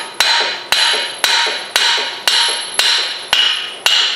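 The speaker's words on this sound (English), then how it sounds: "use a wood block or something soft like shop towel, like this in this case, and a hammer, and then lightly tap and drive it out the backside" A hammer strikes a wheel hub through a shop towel on a 2008-2012 Chevy Malibu during front wheel bearing replacement, eight sharp, evenly spaced metallic taps, each ringing briefly, loud and close with no talk.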